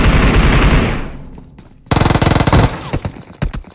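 Gunfire in PUBG Mobile: a loud, dense roar fades out, then a sharp, rapid automatic burst and a few scattered shots follow, close and with no talking.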